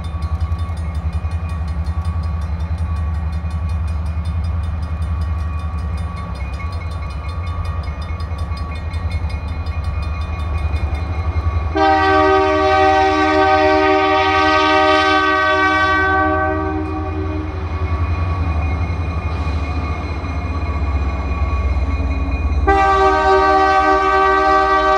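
A Bessemer ore train with the U-702 crew gets underway heading south, a steady rumble of engines and rolling cars carrying through as a loud, sustained multi-tone horn blares in two long blasts, the second cut off near the end.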